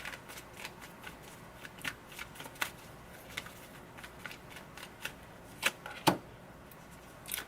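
Tarot cards shuffled by hand, a quiet run of soft riffling and flicking strokes with a few sharper slaps near the end, close and faint.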